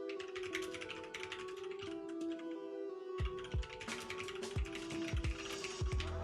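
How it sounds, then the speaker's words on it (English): Rapid typing on a computer keyboard during a live coding stream, with bursts of close, crisp key clicks that pause briefly before resuming in quick, uneven runs. "Oh man, I suck at typing."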